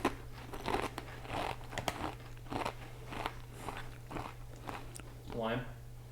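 Crunchy bites of tortilla chips scooped with homemade salsa, several sharp crunches and chewing close to the mic over a steady low hum, with a brief voice near the end.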